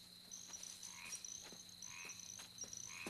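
Frogs croak in a quiet night chorus, repeated short calls overlapping in an uneven rhythm over a steady high insect-like trill, faint and distant with no voices.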